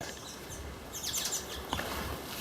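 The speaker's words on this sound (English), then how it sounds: "The birds are chirping." Small birds in coastal bushland near Pearl Beach on the Central Coast give a few faint, high chirps in a short cluster over soft outdoor ambience.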